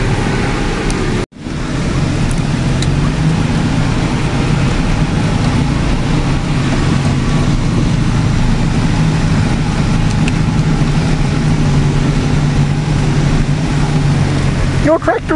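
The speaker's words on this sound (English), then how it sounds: "Your tractor is spraying snow." A tractor working in deep snow on a sheep farm, its engine droning steadily and loud close by with the churn of thrown snow, broken by a brief dropout near the start; people talk faintly over it.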